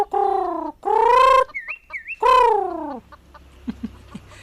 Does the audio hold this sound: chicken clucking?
yes